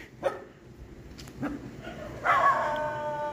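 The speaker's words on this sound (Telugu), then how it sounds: "చుట్టుపక్కల మీకు ఎక్కువ కుక్కల అరుపులు వస్తుంటాయి" Dogs bark in short bursts at a moderate distance, with a longer whining, howl-like bark near the end over steady background noise.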